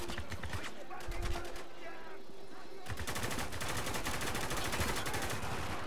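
Rapid automatic gunfire from a weapon in the shooter game Spec Ops: The Line crackles in dense bursts, pausing briefly before resuming even louder, with game battle ambience around it.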